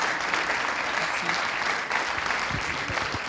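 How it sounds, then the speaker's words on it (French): An audience at a professional awards event applauds a first-prize winner with steady, dense clapping, a few louder nearby claps standing out toward the end. "Sous un tonnerre d'applaudissements"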